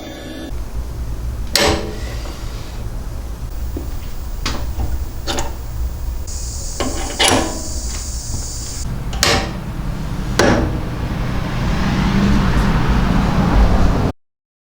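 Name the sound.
centering drill bit drilling a support hole in metal stock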